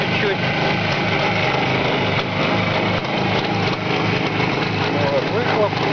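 A small single-cylinder engine from a Gaz-21 idles steadily close by on a test stand, a continuous rough, buzzing drone that holds an even level throughout.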